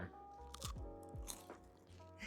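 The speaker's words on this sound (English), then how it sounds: "You can hear the crunch." Homemade Cheez-It crackers crunch as someone bites and chews them, producing a few sharp, close, quiet crunches in a short sequence with no talking.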